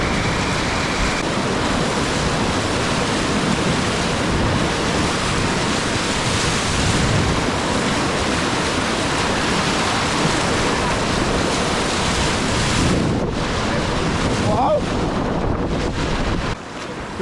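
Whitewater kayaking in a Liquidlogic Torque on a river wave, with a continuous loud roar of rushing water and wind buffeting the microphone, steady throughout with a brief dip near the end.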